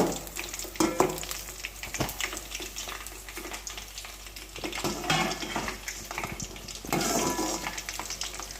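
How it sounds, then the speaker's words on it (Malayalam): Jackfruit seed snack mixture stirred in a pan, a soft continuous sizzle with scraping and clattering strokes of a spoon at irregular intervals, close and fairly quiet. "എന്നിട്ട് നമുക്കിതിനെ ഇങ്ങനെ ഒന്ന് ഇളക്കി കൊടുക്കാം കേട്ടോ."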